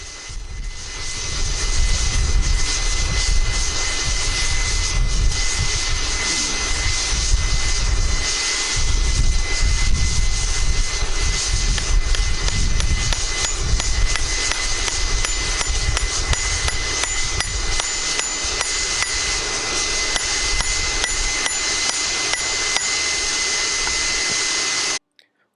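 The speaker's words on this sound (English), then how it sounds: "you'll see me start to actually take the log splitter and hit it through the nail" A log splitter drives a wedge through a railroad spike while forging a hatchet, giving a loud, steady mechanical roar with a hydraulic whine and occasional metallic knocks, continuous for about twenty-five seconds before cutting off.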